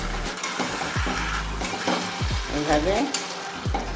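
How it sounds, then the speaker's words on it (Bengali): Boiled taro leaves are stirred in a sizzling pan, a steady frying hiss with scraping stir strokes, close up, as a voice briefly speaks. "এবার কচুর শাকটাকে এইভাবে নাড়তে হবে"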